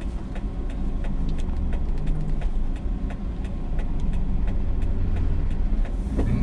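A Daihatsu Hi-Max's engine drones steadily during a test drive, a continuous low rumble heard from inside the cab with road noise and faint rattles, close and loud with no talking.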